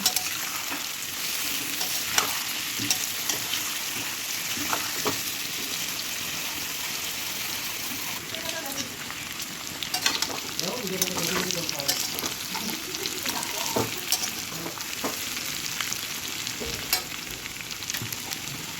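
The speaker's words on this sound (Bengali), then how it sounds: "এটিকে নাড়াচাড়া করে খুব ভালোভাবে ভেজে তুলে নেব।" Steady sizzling of jackfruit frying in a pan, with scraping stirring strokes now and then; no voices.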